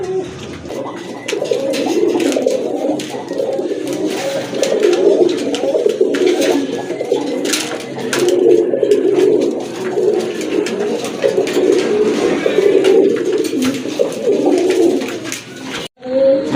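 Gorra pigeons coo steadily and close by, with soft layered calls, a few brief clicks and rustles, and one short break near the end.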